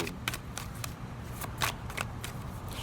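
Tarot cards are shuffled close up in quick riffling bursts, a steady series of crisp papery flicks and snaps with no talking over them.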